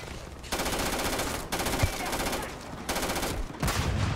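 Rapid bursts of automatic gunfire in the sci-fi game Starfield, several sustained volleys with brief pauses between, loud and close, with no talk over them.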